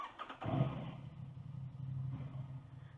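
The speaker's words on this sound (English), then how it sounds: "let's start up the engine" An Aprilia RS660 sport motorcycle engine cranks and catches, then settles into a low, steady idle rumble close by.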